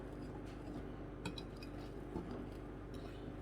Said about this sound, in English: We're going to just keep stirring.